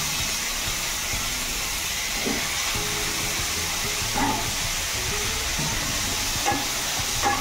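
Janhi (ridge gourd) greens and potatoes frying in a pan, a continuous loud hissing sizzle with faint stirring knocks throughout.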